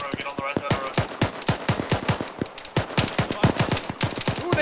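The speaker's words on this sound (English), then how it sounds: "Whoa, shots, right side of the road" Rapid gunfire in a military video game: a dense, steady stream of loud, sharp shots, close and rhythmic like an automatic weapon, running through the whole stretch with a faint voice underneath.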